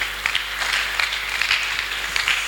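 A church congregation at a Sunday service applauds, a brief burst of steady clapping with a few louder claps standing out.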